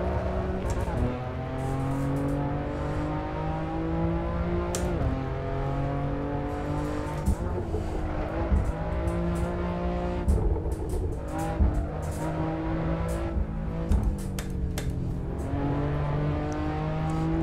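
BMW M4 with an Akrapovic exhaust racing at the Nordschleife in Assetto Corsa, its engine revving loudly and steadily with rising and falling pitch through gear changes, occasional tire squeal, and someone talking over it.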